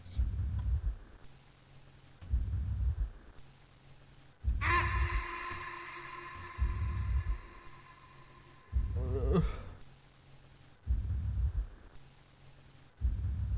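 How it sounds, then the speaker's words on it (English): Slow, heavy breathing from a character in the visual novel Doki Doki Literature Club, a steady run of close, rhythmic inhales and exhales over a faint game tone, with one brief louder musical swell partway through. "Is she just breathing at me?"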